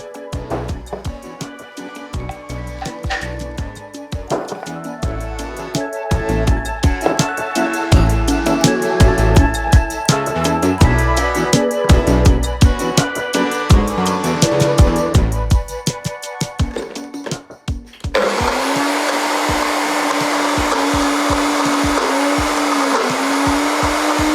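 Scraping and clattering sounds give way to a food processor blending hummus: a loud, steady whirring motor with a high mechanical whine that runs without a break to the end.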